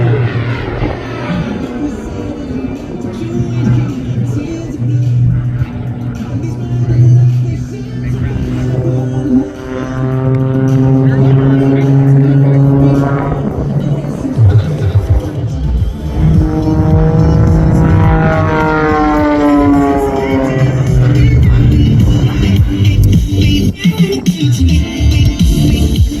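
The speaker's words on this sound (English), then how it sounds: "Demonstrating the incredible power to rate ratio of the Extra 300." A Red Bull Extra EA 300 aerobatic airplane performs at an airshow in London, its engine droning loudly and steadily throughout with rising and falling pitch sweeps as it maneuvers, while a commentator talks over it.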